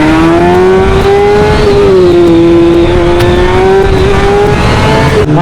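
A superbike revving loud and close during a night rally, its engine holding a strong, steady drone for several seconds with small rises and dips in pitch and no voices.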